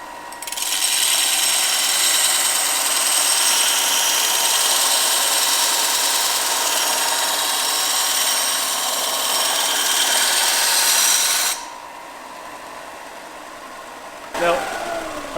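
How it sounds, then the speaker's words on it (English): A belt sander grinds an axe blade against the moving belt, a loud continuous whine for about eleven seconds, then it cuts off, leaving a quieter hum and a short scrape. "I used to just sharpen it going with the direction of where the belt sander was going"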